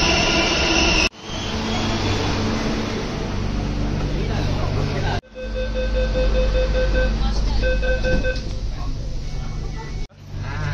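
Loud, steady rumble of a Bengaluru metro train at Nadaprabhu Kempegowda (Majestic) station with high tonal whines, broken by abrupt cuts, sounding close and enclosed.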